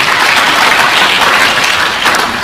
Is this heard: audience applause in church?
yes